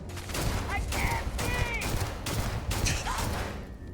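Sci-fi firefight in the space game Starfield, with repeated bursts of gunfire coming in clusters across the whole stretch, loud and close, mixed with game effects and some speech-like sounds.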